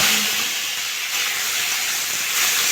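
Ginger dropped into hot oil already holding whole cumin seeds, giving a loud, steady, close hiss of sizzling that fills the moment with no pause.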